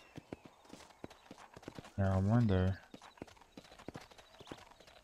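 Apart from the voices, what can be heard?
horse hoofbeats in video game Red Dead Redemption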